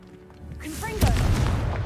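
The Confringo fire-blast spell in Hogwarts Legacy: a short swooshing rise leads into a loud, close explosive boom that rumbles on with crackling debris.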